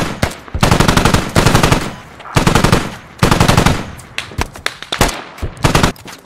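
Bursts of machine gun fire crackle in the Squad video game battle between Russian and British forces, loud rapid volleys in repeated bursts separated by short pauses, then scattered single shots.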